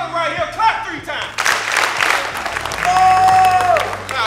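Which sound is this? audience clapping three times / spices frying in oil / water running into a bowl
audience clapping three times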